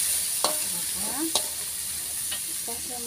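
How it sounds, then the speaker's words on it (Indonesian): Soto ayam spice paste stir-fried in a pan, with a few sharp utensil clanks against the pan over a steady, quiet sizzle and no talking. "Tumis bumbu soto"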